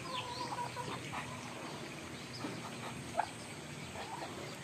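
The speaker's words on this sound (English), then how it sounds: "we got about up to 50 52 chickens." Chickens cluck faintly across a farm flock of about fifty birds, scattered soft calls over a steady low background hum, with one sharper squawk near the end.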